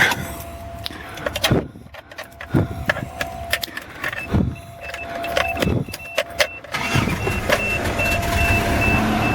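A 1980 Toyota Celica Sunchaser, the original car, cranks in several loud, broad bursts before its engine catches and settles into a steady idle, heard up close with no talking.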